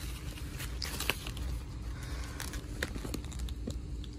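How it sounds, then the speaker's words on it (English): Kate Spade Kitt large nylon tote being pulled out of a plastic bag, with soft crinkling and rustling in scattered faint bursts close by. "Get it out the plastic bag."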